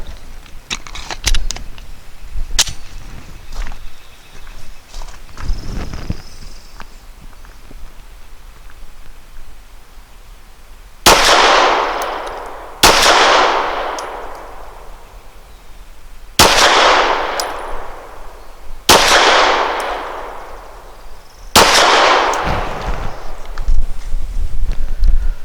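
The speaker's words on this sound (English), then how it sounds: "for the third line of green targets, I'm going to be using the Nosler match grade" Five sharp, loud pistol shots from a custom Glock 34 firing Nosler match grade 115 grain ammo at a target line, spaced a few seconds apart with ringing tails, after some quieter handling clicks.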